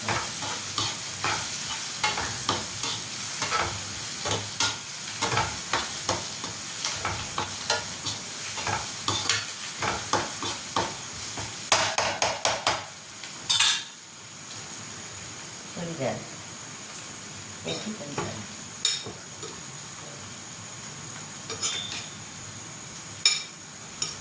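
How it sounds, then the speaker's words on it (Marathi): Chicken fries in oil in a pan and is stirred repeatedly until browned. Rhythmic spatula scrapes and clinks sound over a constant loud sizzle, and a voice is heard at times. "चांगला लाल होईपर्यंत फिरवावं लागतं"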